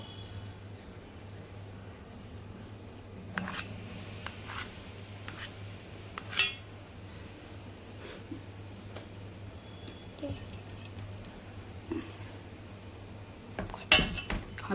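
A kitchen knife cuts medium-sized pieces of Konkani-style thapat vadi, giving soft, irregular clicks and taps against a board or plate, spread over several seconds with a sharper knock near the end, under a steady low hum.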